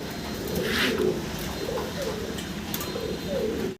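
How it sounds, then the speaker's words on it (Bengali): A pair of red nun pigeons, a fancy breed, cooing close by in repeated soft throaty coos over a low background hum, with no talk. "রেড কালারের আমরা একজোড়া নান কবুতর দেখতে পাচ্ছি"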